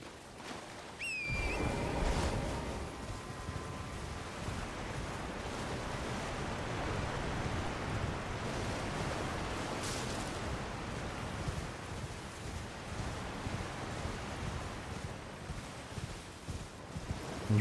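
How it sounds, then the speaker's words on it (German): Steady rushing roar of a waterfall in the video game Elden Ring: Shadow of the Erdtree, a broad continuous wash of falling water that holds at an even level throughout, with a few brief game tones near the start. "Einen Wasserfall abchecken."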